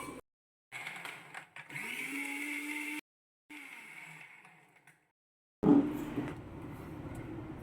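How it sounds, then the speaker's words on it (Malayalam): A blender whirs in several short bursts separated by silences, mixing lemonade with ice cubes, its motor pitch rising as it spins up, ending in a louder grinding run. "ഇത് നന്നായിട്ടൊന്ന് നമുക്ക് അടിച്ചെടുക്കാം"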